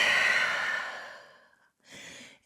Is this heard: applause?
no